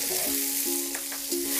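Garlic slices sizzle in hot oil in a wok, a continuous bright frying hiss with intermittent stirring scrapes and short tonal clinks from the pan, close and alone without voices.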